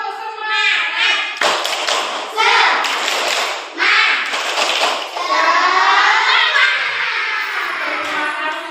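Children perform the tepuk semangat clapping routine in a classroom, a series of loud group claps and thumps mixed with children's chanting voices, close and lively throughout.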